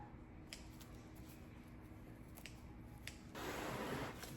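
Scissors trim stray shred from a DIY spa basket, giving a few faint, sharp snips spaced apart, followed by a louder rustle of the shred near the end.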